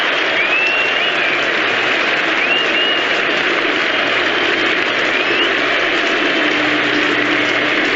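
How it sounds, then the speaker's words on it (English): A large crowd at an England v Australia cricket Test match in 2005 applauds in a dense, continuous wash of clapping that holds steady and loud throughout. "And the crowd applauding England here"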